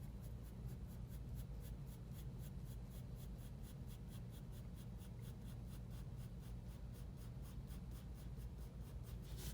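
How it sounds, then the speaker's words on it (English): Pencil drawing small curved lines on paper for a metal spoon sketch: a very faint, close, steady scratching of graphite in quick repeated short strokes, no talking. "I'm going to draw these tiny little curvature lines that might exist over here."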